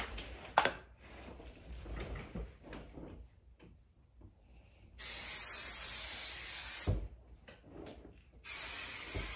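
Innersense aerogel hair product sprayed from an aerosol can in two hissing bursts, a long spray of about four seconds then a shorter one, close up after quiet handling clicks and rustles.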